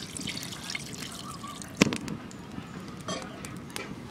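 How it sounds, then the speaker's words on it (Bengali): Spice water poured into a pan of koi fish curry, heard as close splashing and trickling with one sharp clatter midway, then sizzling and dripping, with some faint background noise. "মশলার জলটা এর মধ্যে দিয়ে দেবো"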